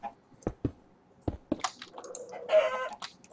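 Chickens in Minecraft give short clucks amid a series of sharp clicks, fairly faint and sparse, with no one talking.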